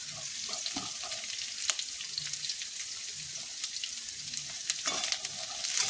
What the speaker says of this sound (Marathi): तर मी बटाटे आता तेलामध्ये टाकलेले आहेत. तर बघू शकता तुम्ही, बटाटे जरा लालसर झालेले आहेत. त्याच्यामध्ये आता मी मिरची टाकणार आहे.